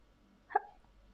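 A single short hiccup, faint and isolated, a quick voiced catch in the throat in otherwise quiet surroundings.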